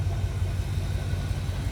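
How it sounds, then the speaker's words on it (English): An abandoned Pontiac, first started in 40 years with a misfire and blow-by, idles close by in a steady low rumble with a rhythmic uneven pulse. "I still can't believe it's just sitting here idling."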